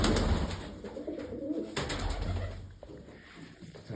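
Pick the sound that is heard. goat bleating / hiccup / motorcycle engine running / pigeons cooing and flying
pigeons cooing and flying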